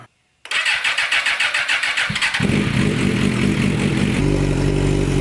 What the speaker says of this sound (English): I'm gonna go ahead and start the bike up, keep a close eye on the temperature